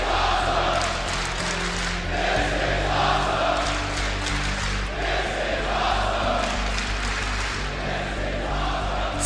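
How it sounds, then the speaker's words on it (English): A large pro wrestling arena crowd roars a sustained reception for Jon Moxley, a dense, loud wall of cheering and yelling that holds steady without letup. "Listen to this crowd. Listen to the reception for Jon Moxley."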